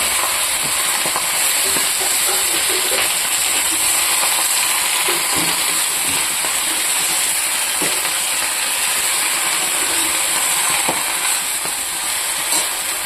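Vegetables sizzle and fry steadily in a pan, a continuous close hiss of oil with occasional small pops and stirring scrapes, no voices over it.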